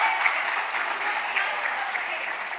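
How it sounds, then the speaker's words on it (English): A conference audience at India Today Conclave East 2017 gives sustained, even applause, with dense clapping from a large crowd filling the hall at moderate volume and no other sound standing out. "Can we please have a round of applause for that,"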